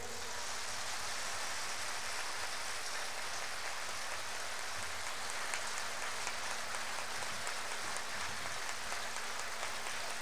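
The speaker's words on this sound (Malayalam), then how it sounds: "എന്നാ കൈ ഉയർത്തി ശക്തിയോടെ കൈയടിച്ചേ." A church retreat congregation claps hard with raised hands, a distant, even wash of steady clapping with no voice heard over it.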